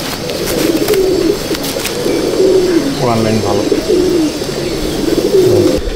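Pigeons, including Madras and Benarasi birds, cooing in a loft, their low rolling coos repeating over steady background noise while someone talks nearby.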